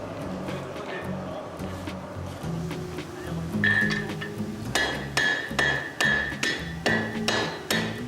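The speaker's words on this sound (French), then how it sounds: "on est obligé de la faire au marteau à l'enclume" A blacksmith beats iron on an anvil with a hand hammer at a forge, the strikes ringing steadily and growing louder and more regular toward the end over a background of workshop noise.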